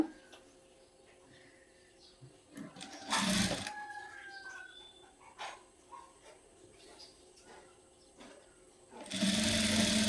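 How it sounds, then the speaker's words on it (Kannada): A sewing machine stitching piping onto a blouse, short close bursts of whirring at the middle and end, with quieter handling noises between and faint barking in the background. "ಈ ಪೈಪಿಂಗ್ ಏನಿದೆ ಇದ್ರ ಪಕ್ಕಕ್ಕೆ ನಾವು ಸ್ಟಿಚ್ನ ಹಾಕ್ಕೋಬೇಕು"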